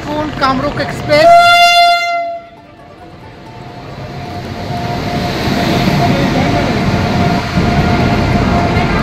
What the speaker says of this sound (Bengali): ট্রেন ঢুকছে এখন কামরূপ এক্সপ্রেস।